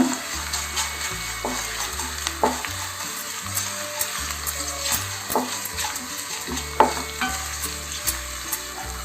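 Onions frying in a pan for a coriander curry gravy, stirred steadily with a utensil; a continuous sizzle runs under repeated scraping strokes and occasional sharp metal clinks, close and fairly quiet.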